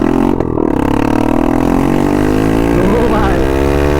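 A fully modified Yamaha R15 sport motorcycle being ridden, its engine droning loud and steady with rising harmonic pitch as it pulls away, close and continuous for a few seconds.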